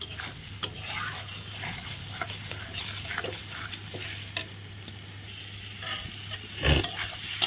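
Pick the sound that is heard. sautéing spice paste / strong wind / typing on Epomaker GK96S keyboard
sautéing spice paste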